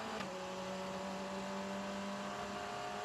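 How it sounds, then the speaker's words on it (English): A Formula Regional race car at the Macau Grand Prix circuit, during the FR World Cup second free practice session. Its engine holds a faint, distant, steady droning whine with sustained tonal overtones and no voices. "you can hear off the engine note that the speed is building all the time"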